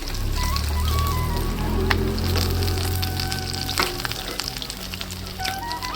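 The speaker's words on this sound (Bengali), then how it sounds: "আমার মাছটা পুরো কড়া করে লাল করে ভাজা হয়ে গেছে" Sea-caught bhola fish fries crisp and red in oil in a village kitchen, a close, even sizzle with light popping and a few faint background tones throughout.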